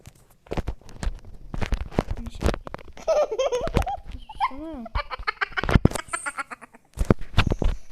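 Sheep in the survival video game Craftsman bleat in several wavering calls mid-clip, mixed with game clicks and bursts of laughter and chatter from players.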